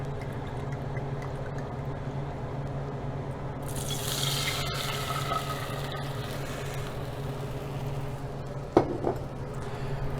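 Wine is poured into a pan for a sauce to go with sous vide duck breast, a steady liquid pour with a faint hiss over a low kitchen hum, ending in a small splash and clink near the close.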